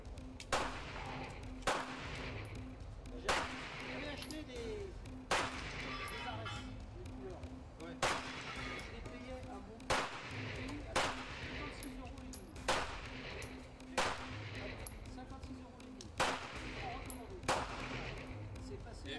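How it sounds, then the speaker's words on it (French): Gunshots from real cartridges at a shooting event, loud, sharp reports spaced every second or two across the whole stretch, with people talking between shots. "Tire avec des vraies cartouches."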